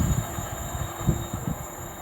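A very long freight train on the West Coast Main Line at Tamworth rolls past, its wagons producing a steady rumble with rhythmic wheel thumps over rail joints, close and continuous.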